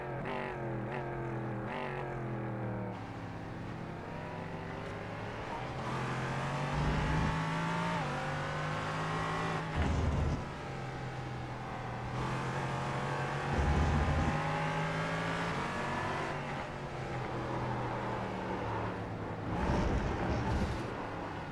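Race cars in a Laguna Seca esports racing game drone and rev steadily, engine pitch climbing and falling through gear changes, loud and continuous, with occasional brief sharper bursts.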